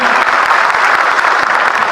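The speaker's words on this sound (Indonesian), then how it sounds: "Tolong tepuk tangan buat Pak Soekardi." An audience at an event for honorary teachers gives loud, dense applause. It is a steady burst of many hands clapping at once, with no speech over it.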